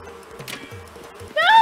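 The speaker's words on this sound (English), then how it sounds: "Not the wasps! Get away from me!" Swarming wasps in Animal Crossing: New Horizons buzz in a low, wavering drone that swells abruptly into a loud, close, high whine at the end.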